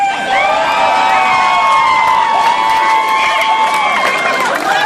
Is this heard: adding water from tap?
no